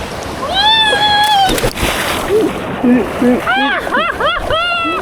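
People jumping into a river: a sharp splash of water amid loud, excited shouting and whooping voices, outdoors and close by.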